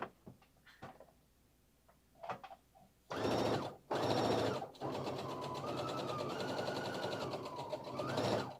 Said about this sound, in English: we're just sewing with a straight stitch here